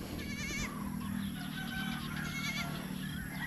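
Goats bleat in a rural spot near water, sounding as wavering cries over a constant background hum, with other farm animals and birds faintly mixed in.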